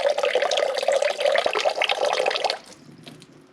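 Water dribbles and splashes steadily from the drain of an Avalon bottom-loading water cooler, loud and close for about two and a half seconds, then thins to a faint trickle.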